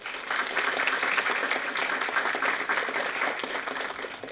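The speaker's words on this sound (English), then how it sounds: "We want to go ahead and give our seniors a round of applause." A round of applause at a school board meeting honoring graduating seniors, dense steady clapping from a roomful of people lasting several seconds and tapering slightly at the end.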